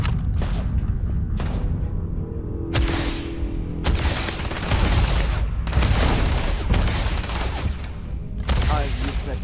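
Bursts of gunfire from a long-range weapon in the video game Starfield, loud repeated shots and booms in clusters across the stretch, mixed with game effects.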